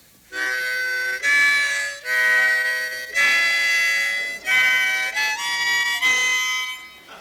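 A harmonica plays a slow sequence of separate sustained notes, one after another with short breaks between them, like a halting scale.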